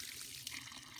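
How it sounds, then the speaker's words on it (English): Water from an artesian well on the west side of Johns Mountain streams out of the mountainside, a continuous close splashing trickle heard alone for about a second. "It's an artesian well on the west side of Johns Mountain coming back down Dunaway Gap Road."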